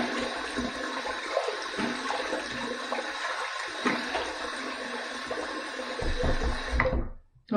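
Water running while a Yaqi tile razor head on a bolt handle is rinsed, a steady close splashing rush that cuts off abruptly near the end.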